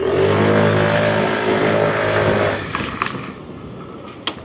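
A 50cc motorcycle engine idles and revs, loud and close, as a sustained buzzing roar that drops off near the end and leaves a few light clicks and knocks behind.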